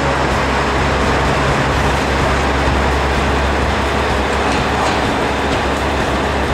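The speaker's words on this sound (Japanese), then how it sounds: "鹿児島中央駅行きの特急列車隼人の風をここで見送ります。" Limited express train Hayato no Kaze departing a station in Kagoshima Prefecture: loud, steady low rumble of the train and its engine, continuous and close, with no voices.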